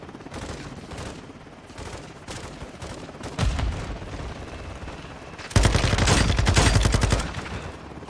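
Rapid LMG machine-gun bursts from a tactical shooter game, a steady rattle of gunfire through the clip that swells into a louder, denser burst near the end.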